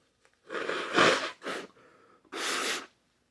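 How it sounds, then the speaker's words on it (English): Three quick, forceful nasal blasts, like someone blowing their nose hard, close and loud with brief pauses between. "Mama said don't blow your nose on camera."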